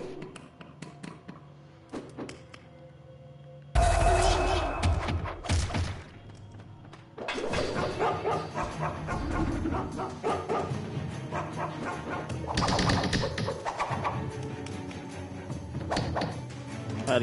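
Guard dogs in the video game Mark of the Ninja bark repeatedly, mixed with thumps and hits from the stealth action, loud and busy over game music.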